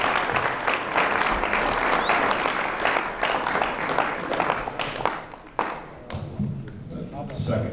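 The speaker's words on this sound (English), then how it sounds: "Give him a round of applause." A round of applause at a high school senior sports banquet, a dense crowd clapping loudly for several seconds and then thinning out to scattered claps and thumps, with voices mixed in.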